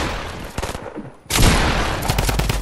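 Rapid bursts of gunfire in the video game Fortnite, loud and dense, with a brief lull before a heavier flurry of shots resumes.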